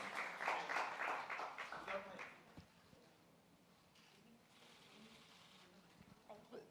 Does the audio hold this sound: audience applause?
yes